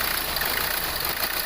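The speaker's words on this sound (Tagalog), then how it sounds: "mapapansin nyo yung makina natin talyado, papalag" A 2016 Hyundai Accent CRDI diesel engine idling roughly with a misfire, a steady close, noisy mechanical clatter with no clear variation in level across the short stretch, no talk.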